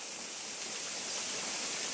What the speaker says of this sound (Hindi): अब ये समस्या है कि पानी पूरे यहाँ गिर जाता है